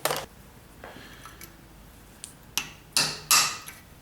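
A hammer strikes a chisel on a Dodge 4.7 engine, with several sharp metallic blows at uneven intervals, the last few louder and ringing briefly, close by with no talking.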